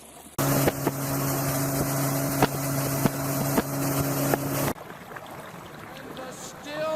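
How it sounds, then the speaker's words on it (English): A small boat's outboard motor runs steadily on the sea for about four seconds, droning loud and close with wind buffeting the microphone, then cuts off and leaves faint wind and water noise. "Taking out the little boat."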